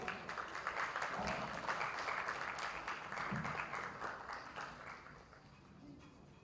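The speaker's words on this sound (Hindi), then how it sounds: "जोरदार तालियों में।" An audience applauds a guest walking onto the stage at a TV serial launch event, a dense roar of clapping that holds steady, then gradually thins and fades, with no voices.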